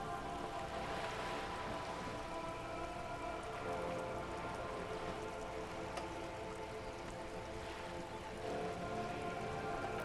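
Rain pours in Disco Elysium, a continuous broad patter on surfaces with faint tonal ambience beneath, steady and unbroken for the whole stretch with no speech.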